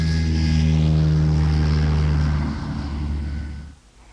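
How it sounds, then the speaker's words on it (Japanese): A propeller airplane drones steadily overhead, loud and near with a strong humming engine tone that swells and then fades away toward the end. "あれは飛行機です。"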